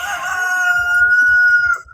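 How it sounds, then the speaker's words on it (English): A backyard rooster crows loudly and nearby in one sustained call lasting about two seconds, with a few faint clucks from the other chickens beneath it. "Sorry if you're hearing my mom's chicken."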